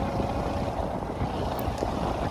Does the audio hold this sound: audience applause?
no